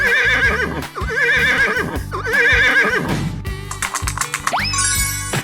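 Repeated trembling whinnies from a horse in a 3D animal video game rise and fall three times in quick succession over loud, steady game music, followed by tinkling effects and a swooping tone.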